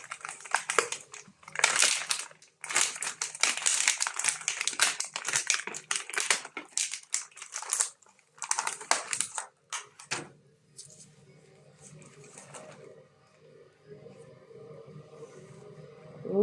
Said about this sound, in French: Vous commencez à dérouler la pâte.